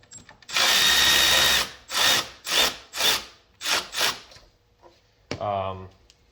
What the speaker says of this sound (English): So I have a ratcheting wrench.